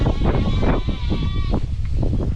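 Sheep bleat repeatedly and loudly close by as they are driven out of a pen at a farm auction, several overlapping calls forming a steady noisy chorus.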